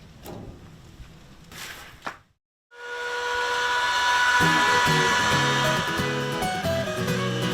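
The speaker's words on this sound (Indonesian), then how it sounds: "Daun kelor yang telah layu dan kering kemudian digiling hingga menjadi butiran tepung yang halus." An electric grinder mills wilted, dried moringa leaves into fine flour, starting up after a short pause as a loud, steady high-pitched whir with a rattling churn beneath, following a brief stretch of quieter sounds.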